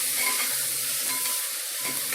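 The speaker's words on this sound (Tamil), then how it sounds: "இப்போ காய்கறி எல்லாம் போட்டாச்சு." Chopped vegetables frying and being stirred in a pan for millet khichadi, a steady sizzle with occasional scraping from stirring, close and with no voices.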